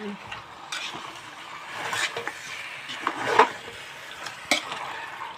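Chicken being mixed into a pan for chicken biryani: irregular scraping and clinking stirs over a soft sizzle, with a few sharper knocks of a utensil against the pan, close and moderately loud.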